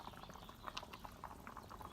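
Melted upcycled beeswax is poured into candle holders, giving a faint, steady liquid trickle with soft bubbling plops throughout.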